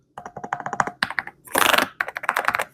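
Rapid, close typing on an Akko MU02 wooden-case keyboard with soft, non-clicky silicone-like keys: steady muted taps in quick runs, broken by a dense cluster of keystrokes in the middle, with no talking.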